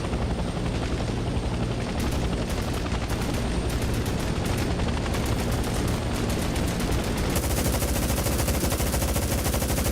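Heavy-recoil gun in a Vietnam War video game firing rapid, dense bursts over a constant loud roar of a helicopter, continuous and close throughout.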